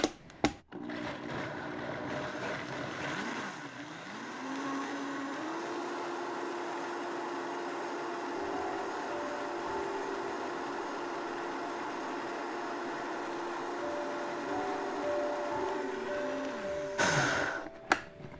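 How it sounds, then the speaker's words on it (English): A Vitamix blender blends coconut yogurt, starting at low speed: a steady whirring motor drone with shifts in pitch as the speed changes, loud and continuous with no voices. "Make sure that your Vitamix is starting low"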